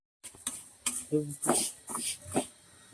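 Urad dal is dry roasted in a pan and stirred, giving short scraping and rattling strokes of a utensil against the pan, close and distinct, with a soft voice briefly underneath.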